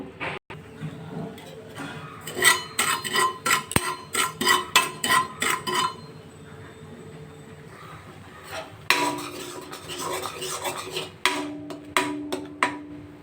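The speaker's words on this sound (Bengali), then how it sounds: "প্যানের মধ্যে একশো গ্রাম সুজি নিয়ে নিয়েছি সুজিটা একটু নাড়াচাড়া করে নেব" A metal utensil scrapes and clinks repeatedly against a kadai while stirring semolina, in quick irregular bursts, with brief pauses between rounds of stirring.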